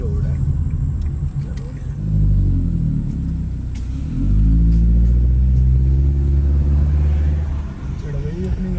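A car engine rumbles loud and close as the vehicle climbs a road toward a waterfall on a Pacific island, with the pitch rising and shifting as it accelerates uphill. Low background chatter is faintly present.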